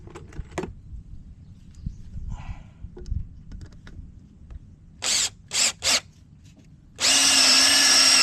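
A Makita power drill fires off in short high-pitched whirring bursts, three quick spurts followed by a longer sustained run, loud and close, with softer handling clatter beforehand while building a wooden garden tool.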